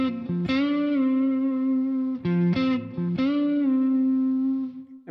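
Distorted electric guitar playing a walk-down lick: sustained notes stepping downward with a few quick picked changes, loud and close, alone with no talk.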